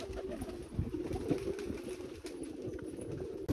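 Pigeons cooing inside a loft, soft and fairly distant, repeating in low murmuring phrases over a steady ambient background with no talking.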